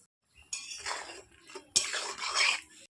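A metal lid set onto a cooking pot of simmering pointed gourd peels with garlic and chillies, giving two short clattering clinks of metal on metal, close and clear, with no talk.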